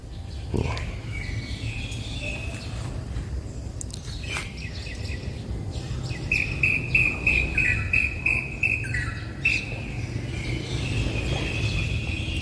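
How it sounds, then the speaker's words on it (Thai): Several kinds of birds sing and chirp in a garden outside a block of flats, with repeated bright trills and calls over a steady insect buzz and a low background rumble. "ฟังเสียงนกฮะ เหมือนอยู่ในป่าเลย เสียงนกนี่หลากหลายมากนะฮะ"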